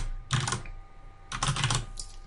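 Two short bursts of key clicks on a computer keyboard as a username is entered at a login prompt while setting up a No-IP client, close and fairly quiet, separated by a brief pause.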